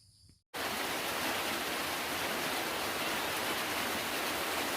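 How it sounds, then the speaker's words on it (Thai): Steady, heavy rain pours down in a dense, even hiss that starts abruptly after a brief quiet moment and continues without pause. "บรรยากาศดีครับเมื่อนี้ฝนตก คาดว่าจะตกทั้งวันครับ"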